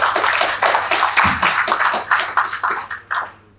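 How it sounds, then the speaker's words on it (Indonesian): Audience at a property seminar in Medan clapping in a short burst of applause, sharp hand claps crowding together then thinning out and fading near the end. "mari kita berikan sambut dan tepuk tangan lagi untuk Pak Tirta nih."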